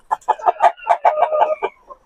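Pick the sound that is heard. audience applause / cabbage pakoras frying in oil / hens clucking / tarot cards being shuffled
hens clucking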